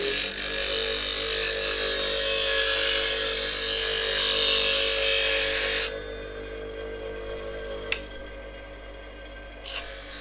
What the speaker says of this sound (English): I do need the 3/8 here, so I shall go away and sharpen that.